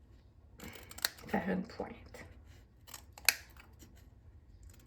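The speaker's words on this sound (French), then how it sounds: "Puis ici, je vais couper." Scissors snipping through paper while making an envelope, a few short crisp cuts close by, with someone talking in French over them.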